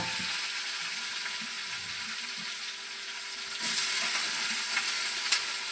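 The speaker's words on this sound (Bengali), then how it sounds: "কড়াতে তেল দিয়ে দিয়েছি, গরম হয়ে গেছে। এবার আলুগুলোকে ছেড়ে দেবো।" Potatoes frying in a pan of hot oil, a steady broadband hiss that grows louder and brighter midway as the pieces hit the oil, with faint stirring clicks; no talking.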